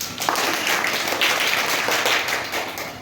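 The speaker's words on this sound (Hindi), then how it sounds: "तो सभी बच्चे एक बार जोरदार तालियां बजा दो" A group of children claps in a classroom, a loud burst of many overlapping hand claps that holds steady for a few seconds and is heard fairly close, without talking.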